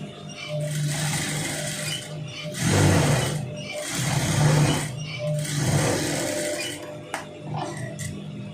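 Sewing machine stitching the lining of a long sleeve, a steady close whirring drone with a faint mechanical rattle, running in long passes that rise and ease slightly, plus a small click near the end.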